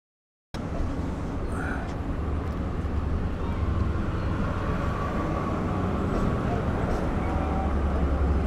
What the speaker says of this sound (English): the train will now be repositioned to open up the rear 6 cars